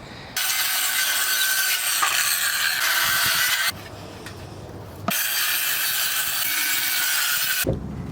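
A saw cuts a warped piece of wood for table legs, two long loud buzzing runs close up with a short quieter pause between them.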